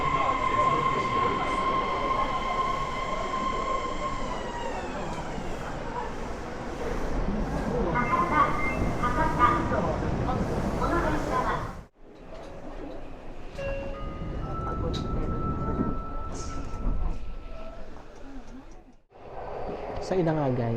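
Train ride in Fukuoka, Japan: a steady rumbling interior roar with wheel and motor hum, a tonal whine early on, and a brief dip as the carriage passes through, with voices talking over the ride.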